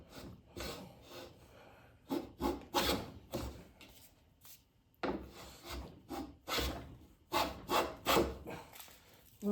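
A Lie-Nielsen No. 4 bench plane takes full-width shavings from a wooden board in repeated rasping strokes, each about half a second long, grouped in bursts with short pauses between them, close up and with no talking.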